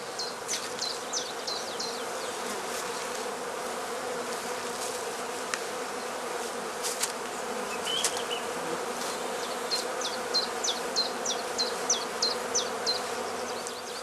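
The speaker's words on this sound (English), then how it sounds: "The smoke from the smouldering tansy subdues the bees which are already actively tending their brood." Bees in a hive subdued by tansy smoke buzz continuously at close range, a dense steady hum with individual insects darting past the microphone.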